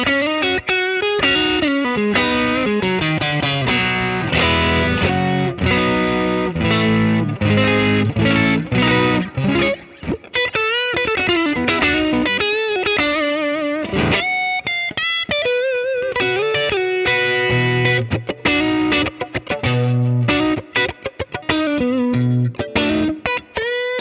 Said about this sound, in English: this is the amp and the Tube Screamer captured together